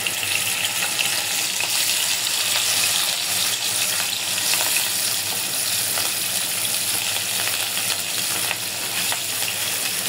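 Rohu fish pieces frying in oil in a pan, a constant loud sizzle with a fine crackling texture that stays even from start to finish, close up, no voices.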